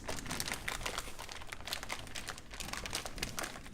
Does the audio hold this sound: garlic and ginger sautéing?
no